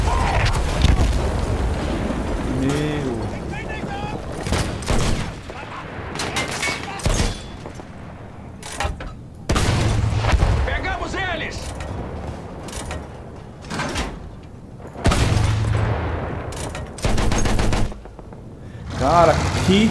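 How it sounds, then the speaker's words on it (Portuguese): Explosions and bursts of gunfire in the World War I shooter Battlefield 1 come in repeated loud blasts and rattling volleys, separated by quieter stretches, with someone talking over parts of the action. "Cara, que explosão incrível."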